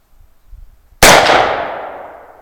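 A single sharp report from a custom AR-15 rifle rings out loud and close at an outdoor target range, its blast decaying into a long echo after a stretch of faint low rumble.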